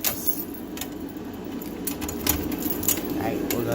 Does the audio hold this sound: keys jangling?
yes